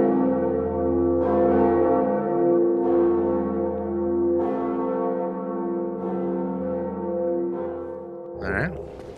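A large, deep bell tolls in the Dark Souls video game, its heavy resonant strikes repeating every second or so over a sustained humming drone, loud and close, with a brief higher ring near the end.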